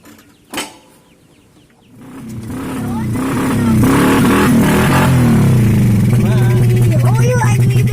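A 1000cc motorcycle engine starts after a sharp click and climbs into a loud, sustained rev on a test ride, a deep throbbing drone rising and holding near, with people talking over it.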